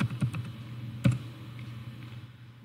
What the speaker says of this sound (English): I am typing netstate command and hit enter.